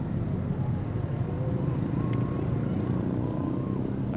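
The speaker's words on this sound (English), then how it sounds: "I hear the little cars coming up behind them as well." Small vehicles roll along in a Fourth of July parade in North Carolina, a steady mid-distance engine drone under a continuous crowd murmur and outdoor bustle, with faint whistle-like tones drifting through.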